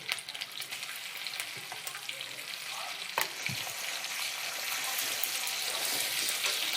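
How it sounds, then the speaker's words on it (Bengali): Ginger paste fries in a pan on low-to-medium flame for a green-pea kachori filling, giving a steady, close sizzle with occasional stirring scrapes and one sharp clink, growing slightly louder toward the end. "আমি প্রথমেই আদা বাটাটা দিয়ে দেবো, দিয়ে হালকা হালকা করে গ্যাসটা লো করে আমি ভেজে নেব"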